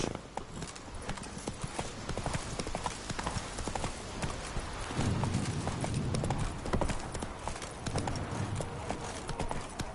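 Roach, the horse in The Witcher 3 video game, trots with dense, steady hoof clip-clops on the ground. The hoofbeats are loud and continuous and thicken into a heavier rumble midway, with faint game ambience underneath.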